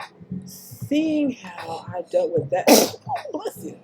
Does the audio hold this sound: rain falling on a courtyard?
no